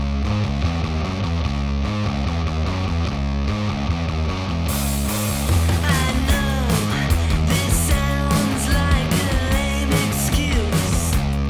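Recorded rock music, a full distorted band mix with steady drums and dense guitars that grows brighter and busier halfway through, playing continuously without talk.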